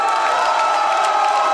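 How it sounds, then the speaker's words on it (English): A fight-event crowd roars and cheers for local fighter Riley Palmer at a CFFC 101 card, a loud, dense, continuous wall of shouting and whooping voices. "what a cheering section he had"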